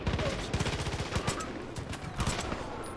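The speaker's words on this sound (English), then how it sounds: "Oh, I'm getting shot." Rapid automatic gunfire in the Far Cry 5 video game rattles in dense bursts around the player, loud and continuous for several seconds with no talking over it.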